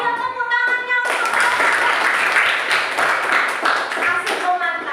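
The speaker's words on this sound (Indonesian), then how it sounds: "Ayo tepuk tangannya" Audience at a school training session in Indonesia claps for a group that has just presented, steady dense clapping lasting several seconds after a brief voice at the start.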